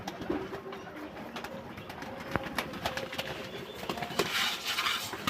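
Pigeons coo softly while eating scattered rice grains nearby, with light pecking and clinks from a feeding dish and soft background rustle.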